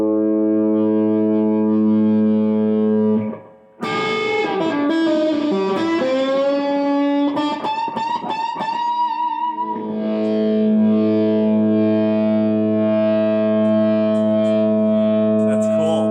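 A 1958 Korina V electric guitar plays through a Mesa Boogie amp in a shop. It goes from a held, droning chord into a loud burst of distorted bends and runs, then settles on another sustained ringing chord.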